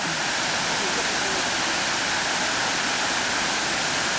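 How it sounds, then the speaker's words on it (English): Gravity-fed fountains at the Peterhof Grand Palace pour and splash without pumps, a dense, loud, constant rush of falling water filling the whole span. "All of this water is driven by gravity. There's no pumps on it."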